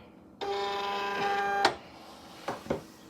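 A Silhouette Cameo 4 cutting machine with sticky vinyl loaded gives a close, steady motorised whir for about a second, then stops with a clunk. A few sharp mechanical clicks follow.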